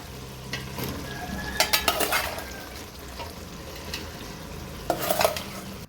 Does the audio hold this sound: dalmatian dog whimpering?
no